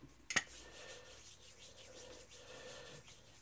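A blade is rubbed back and forth on a fine natural sharpening stone, giving soft, faint rhythmic scraping strokes after a brief sharp tap at the start.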